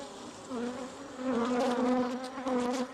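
Close, dense buzzing of many bees in a hive inside a wall, a steady droning hum that swells and wavers over a few seconds.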